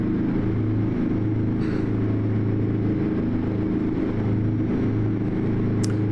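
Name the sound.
truck engine in video game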